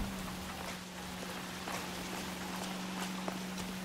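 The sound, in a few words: rain in the video game LA Noire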